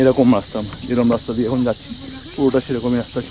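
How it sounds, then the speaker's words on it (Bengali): Crickets chirp in a constant high-pitched drone on a forest road near Sillery Gaon view point, West Bengal, while someone talks nearby over them. "শুধু ঝিঝি পোকা ডাকের আওয়াজ।"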